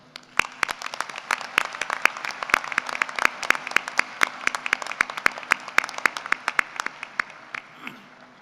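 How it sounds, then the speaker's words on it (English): Sparse applause for award winners at a college of engineering graduation ceremony, a handful of distinct, close claps in a loose, uneven rhythm that thins out toward the end. "Let's give a round of applause to our award winners"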